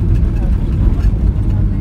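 Ryanair Boeing 737-800 with winglets in idle reverse thrust just after a hard touchdown at London Stansted, heard from the cabin as a steady, loud low-frequency engine roar without pause.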